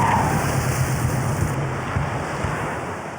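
Cartoon ocean wave surging in a rush of surf, a loud, steady wash of water and wind-like roar that eases slightly toward the end, with no voices.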